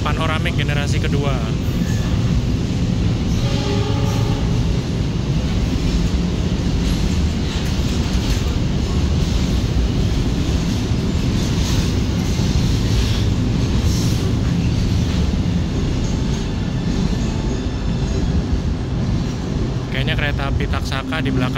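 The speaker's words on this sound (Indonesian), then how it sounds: "Kereta panoramik generasi kedua." A second-generation panoramic passenger train in Indonesia rolls along the rails, a loud continuous rumble of wheels and carriages close by, with brief squealing tones near the start and end and a person talking over it.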